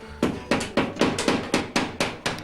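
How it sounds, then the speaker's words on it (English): A hammer strikes repeatedly to knock old putty out of a window frame around the glass, about ten sharp, close knocks at a steady, unhurried pace. "They have no choice but to hammer a little harder."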